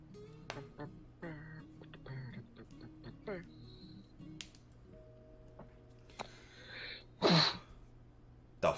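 A sneeze bursts out near the end amid quiet game sounds and electronic tones while playing Dwarf Fortress, a short loud blast followed by a brief second one.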